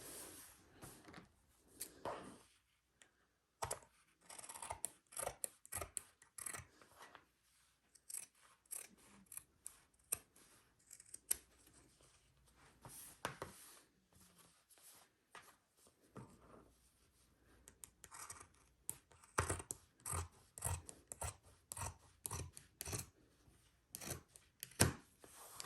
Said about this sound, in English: So let's go ahead and cut this so that all of this excess fabric that we don't